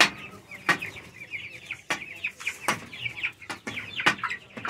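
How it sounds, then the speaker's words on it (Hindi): Chickens clucking in a coop, with repeated close clucks and squawks over a steady background chatter of the flock, broken by sharp knocks and bumps. "ओ, इधर सारी मुर्गी इकट्ठी हो गई यार"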